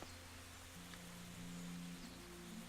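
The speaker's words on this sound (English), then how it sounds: "It's beginning to rain." Steady, soft hiss of rain falling in the medieval video game Kingdom Come: Deliverance, a quiet even wash with a faint low tone running through it.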